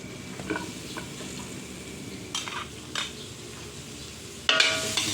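Pork belly sautés in butter in a hot pan, a soft steady sizzle broken by a few clinks of stirring, then a sudden louder burst of frying near the end, with no voices.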